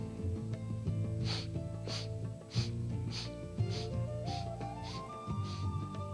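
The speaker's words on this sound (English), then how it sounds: "And it's 8 sniffs." Eight rhythmic, sharp sniffing inhalations during a breathing exercise, evenly spaced about half a second apart, breathy and close, over soft sustained background music with a slowly rising melody.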